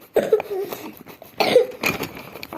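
A sick child coughs nearby in two short bursts of a few rough coughs each, with a quiet room between.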